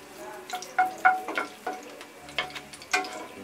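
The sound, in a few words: four dried red chillies frying in oil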